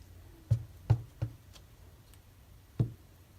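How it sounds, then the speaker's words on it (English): A rubber stamp inked with dark roast ink is pressed down onto buttercream cardstock, making four soft, close knocks at uneven intervals, each a brief dull tap over a quiet room. "I'm going to stamp it onto a piece of buttercream cardstock with dark roast ink"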